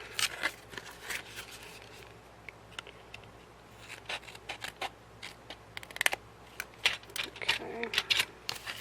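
Scissors snip and rustle while trimming a sheet of wallpaper, giving irregular sharp cuts and paper crinkles up close, with quiet stretches between the cuts.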